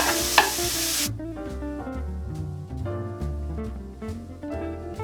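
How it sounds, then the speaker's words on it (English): Onions frying in a hot pan and being stirred, a brief loud sizzling scrape at the start, then a steady low sizzle under cooking noise with no talking. "Get my onions going."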